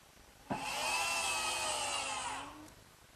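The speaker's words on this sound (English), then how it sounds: "being sure to pre-drill some holes in this hard oak, just fasten it with the screws" A power drill bores a pilot hole in hard oak for hinge screws, a close, high whirring burst lasting about two seconds that winds down at the end, with no talking.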